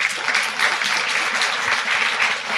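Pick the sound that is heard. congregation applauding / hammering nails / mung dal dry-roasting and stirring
congregation applauding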